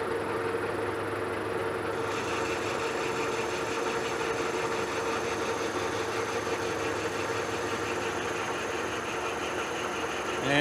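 A lathe cutting steel for a machinist jack, producing a steady mechanical hum and whine with faint rhythmic grinding, constant and close throughout.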